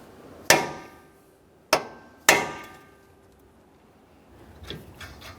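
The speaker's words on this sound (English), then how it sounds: "We're going to use a hammer and punch and drive the nut into that area" Three sharp metallic hammer blows on a punch, staking an axle nut on the front end of a 2011-2020 Toyota Sienna, each strike ringing and decaying, followed by faint handling noises.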